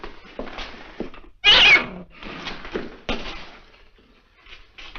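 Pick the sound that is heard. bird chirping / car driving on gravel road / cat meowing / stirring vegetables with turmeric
cat meowing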